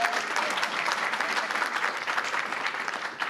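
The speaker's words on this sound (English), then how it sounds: "And can we give our parents another round of applause?" Steady, moderately faint applause from an audience at a Parent University kickoff event, clapping for the parents, sustained for a few seconds without anyone speaking.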